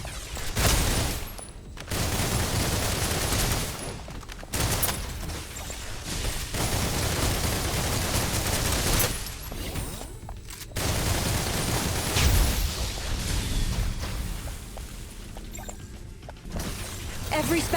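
Sustained bursts of rapid video game gunfire, loud and dense, broken by a few brief pauses between volleys, with voices speaking amid the shooting.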